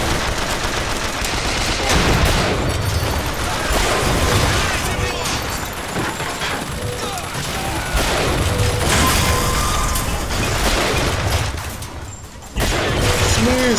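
In BioShock Infinite, a turret gun fires sustained bursts of loud, rapid gunfire, nearly unbroken for most of the stretch, with a brief lull near the end before it resumes.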